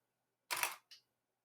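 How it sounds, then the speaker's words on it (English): A single DSLR camera shutter fires at 1/50th of a second with a sharp mechanical clack and a quick softer second click, alone against silence. "We're going to start at 1/50th of a second."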